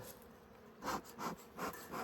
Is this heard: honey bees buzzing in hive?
yes